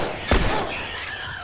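Gunfire in The Last of Us Remastered: one sharp, loud shot cracks out near the start, followed by a long noisy decay with no other shots.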